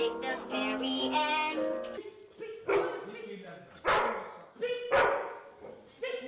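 Dog actor barking on a film set, several loud sharp barks spaced apart, interleaved with a handler's voice giving commands.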